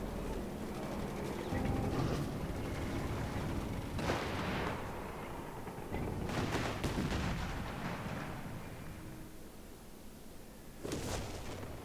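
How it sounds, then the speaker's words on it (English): Artillery barrage in Company of Heroes 3, a WWII real-time strategy game in the North Africa Afrika Korps campaign: repeated heavy booming blasts with rumbling low end, several distinct impacts spaced a few seconds apart over continuous battle din. "Artillery incoming!"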